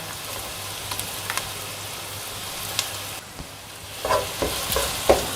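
Onions sauté with ginger garlic paste in a pan for a spicy aloo gravy, with a steady sizzle that drops suddenly partway through, then soft stirring clinks and scrapes, and no talk.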